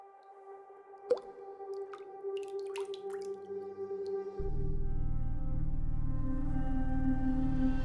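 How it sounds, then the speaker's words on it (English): Antimatter dropped from a tilted spoon into water in a VR game makes a sharp plink, then soft drips and squishy bubbling tones before a loud, steady droning hum takes over. "Tilt the spoon. Let the antimatter fall into the water."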